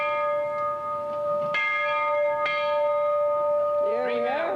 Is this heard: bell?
yes